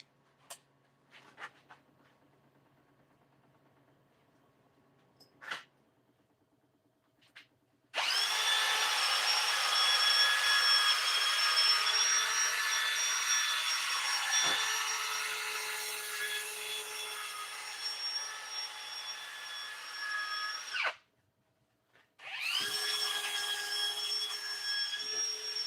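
A turned wooden piece is sanded while spinning on a lathe, a loud steady whirring hiss that runs continuously, stops briefly, then starts again after a few quiet taps.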